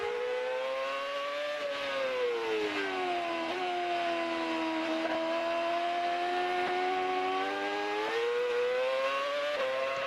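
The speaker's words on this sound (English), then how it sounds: "just hearing the sound of these engines, this engine reverberating off the trees" A high-pitched Formula One car engine whines continuously at a distance, its tone rising and falling as it shifts through gears, echoing off trees with no talk over it.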